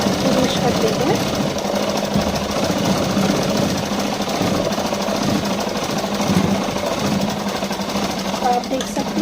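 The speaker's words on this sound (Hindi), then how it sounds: "तो इसको एक दाब की सिलाई लगाकर फिनिश कर देते हैं।" A sewing machine runs steadily and loudly, stitching a finishing seam along the patterned bottom hem of palazzo pants, with a continuous rapid mechanical whir throughout.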